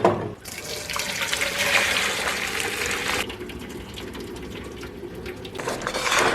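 Water pouring and splashing as cooked lentils for a Punjabi-style dal fry are drained, a steady running gush that is strong for about three seconds, then continues more lightly.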